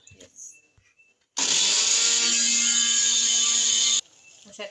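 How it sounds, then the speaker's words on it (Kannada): Kitchen mixer grinding masala with garlic runs as a loud, steady whirring buzz for about three seconds, abruptly starting and stopping, with quiet background sounds before and after. "ಬೊಕ್ಕ ಕುಡವರ ಲಾಸ್ಟಿಗೆ ಬೆಳ್ಳುಳ್ಳಿ ಪಾಡ್ದು ಕುಡ ಒಂಜಿ 2 ಸುತ್ತು ತಿರ್ಗವಡು"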